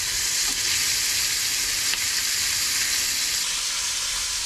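Barramundi fillet fries in a hot pan with a constant, loud, even sizzle and hiss, close up and uninterrupted, with a couple of faint clicks.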